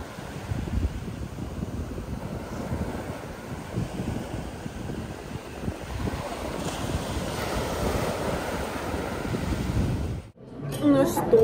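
Sea waves roll onto a rocky Turkish shore in a continuous, moderately loud wash mixed with wind buffeting the microphone, ending with a brief drop and a rustle.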